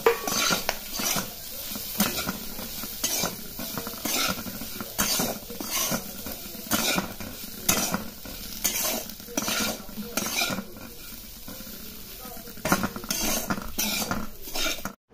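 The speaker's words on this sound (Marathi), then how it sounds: "आणि आता पूर्ण परतून घ्यायचं." A spoon stirs and scrapes repeatedly through fried chillies and leftover sesame chutney spice mix in a pan, with rhythmic metallic clinks and a soft sizzle underneath, close and alone.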